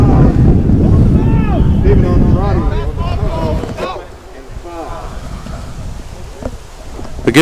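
Gusty wind buffets the microphone at an outdoor high school football game at Mission Prep in San Luis Obispo on a breezy afternoon, a loud low rumble that eases midway, with people talking throughout.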